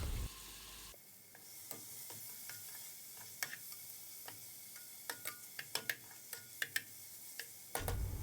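A spoon stirs prawn biryani masala in a pan, making faint, irregular scraping taps and soft ticks over a quiet, hissing sizzle, alone with no voices.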